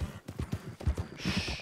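A nervous horse shifts and steps about, its hooves giving a short run of uneven, close clip-clops with a brief bright hiss near the end.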